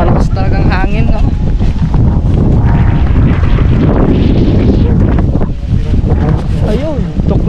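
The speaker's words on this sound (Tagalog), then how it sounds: "sa sobrang lakas ng hangin, tuklap na yung kabilang ano" Powerful wind batters the microphone outside near a bus terminal, a loud unbroken roaring rumble throughout, with someone speaking partly buried under the gusts.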